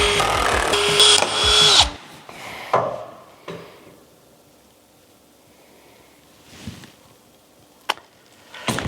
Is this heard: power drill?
yes